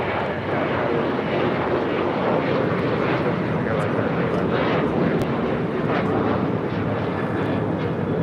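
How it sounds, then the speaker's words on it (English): A Boeing 787-9 Dreamliner airliner taxis at LAX, its engines giving a constant, loud, even roar with no pauses from start to finish. "787-9 Dreamliner heading toward the 25s as we wait for the two A380 takeoffs on the north side"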